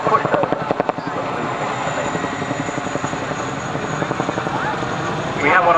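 A helicopter with semi-rigid rotors flying nearby, loud rhythmic blade chop over steady engine whine, strongest at the start and building again at the end, with a voice talking over it.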